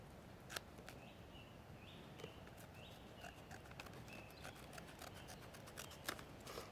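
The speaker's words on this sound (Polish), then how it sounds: "Najpierw zrobimy test nożyczek." Faint, repeated snipping and crisp clicks of Victorinox Handyman pocketknife scissors cutting through a sheet of paper folded in four, irregular cuts over a quiet hissy background.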